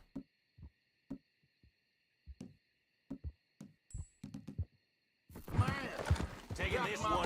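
Sparse, spaced hoof clops from a horse in Red Dead Redemption 2 sound close and distinct over a quiet background, then a voice and louder game sound take over near the end.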